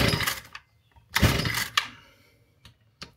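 Repeated pull-starting of a Stihl FS 38 brushcutter, a few rough rasping cord pulls with short pauses between them, followed by faint clicks, close by and with no engine catching.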